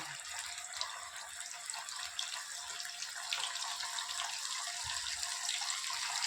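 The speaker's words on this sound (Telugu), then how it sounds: "ఆయిల్ హీట్ అయింది. ఇప్పుడు అన్నీ చికెన్ పీసెస్ దాంట్లో 1 by 1 వేసుకుంటున్నాను." Chicken pieces dropped one by one into hot oil in a home kitchen, giving a steady, dense sizzle with a watery crackle throughout and no talking.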